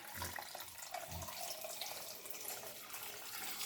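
Liquid strained through cheesecloth for a Jamaican breakfast, pouring as a continuous soft splashing trickle, close and even, with no voices.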